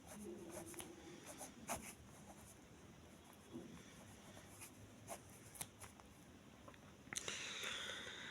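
Pen or marker writing out a maths substitution problem, soft scratchy strokes in short bursts across a quiet room, with a few faint taps and a brief louder rustle near the end.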